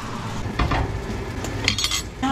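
A utensil stirs ingredients into sautéed liver in a pan, with scattered clinks and scrapes against the metal over a low background sizzle and no speech.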